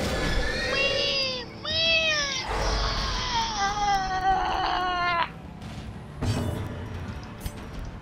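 Squealing, whiny cries of the pig monster from the video game Darkest Dungeon, several pitch-bending squeals in quick succession over about five seconds, loud and close, with game noise underneath and no talk.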